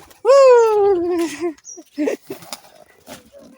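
A single drawn-out cooing call, close and clear, followed by a few softer murmurs and rustling sounds.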